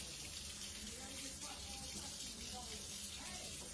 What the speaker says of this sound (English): So I'll put a little bit of water in there,